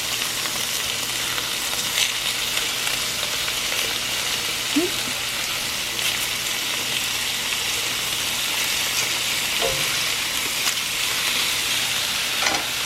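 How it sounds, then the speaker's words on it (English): Paprika-seasoned food fries in a pan with a steady, moderate sizzle and hiss, joined by a few faint clicks of tongs turning the pieces. "Hopefully you can hear me over that sizzling."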